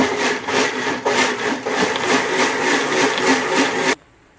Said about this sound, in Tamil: நம்ம இப்போ வந்து அந்த இன்க்ரீடியன்ஸ் எல்லாம் வேக வச்சதெல்லாம் வந்து கிரைண்ட் பண்ணிக்கலாம்